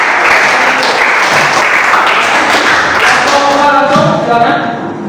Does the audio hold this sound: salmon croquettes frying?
no